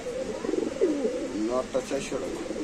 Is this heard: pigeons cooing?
yes